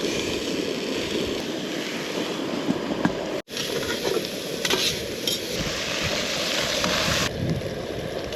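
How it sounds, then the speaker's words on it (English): Sausages frying in a pan inside a hot tent while camping in the snow by an alpine lake, giving a steady, close sizzle with faint metallic clinks of cookware throughout. "Sausage going in the other one."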